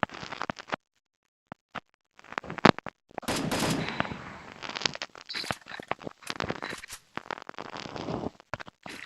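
Gunfire in the video game Free Fire, with choppy bursts of rapid automatic shots and single cracks broken by silent gaps, fairly close and sharp, with no talk over them.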